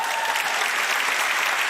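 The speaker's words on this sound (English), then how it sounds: "You guys can clap for that." Church congregation applauding during a year-end celebration service, a steady, dense wash of clapping that stays even and fairly loud throughout, with no voices breaking through.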